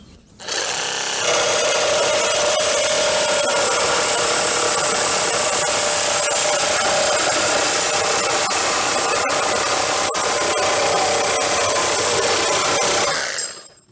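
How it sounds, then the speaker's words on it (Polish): A reciprocating saw cuts sheet metal, running loud and steady for over ten seconds, a harsh buzzing, rasping cut, starting and stopping abruptly, with no talking. "no przecież to jest piła szablasta"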